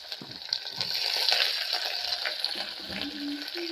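Onion hitting hot oil in a pan, a bright hissing sizzle that swells and then settles, with a few clinks from stirring, close, no talking.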